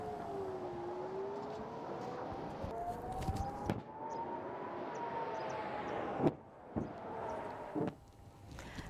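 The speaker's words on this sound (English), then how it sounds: "sirens rang out across the upper and western Galilee, signaling a state of heightened alert in the region" An air raid siren in the upper and western Galilee wails, rising and falling steadily in the distance, carrying over faint background rumble with a few sharp knocks.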